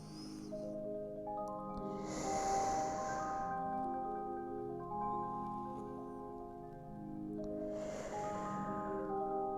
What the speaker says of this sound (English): Let's take 3 big breaths here.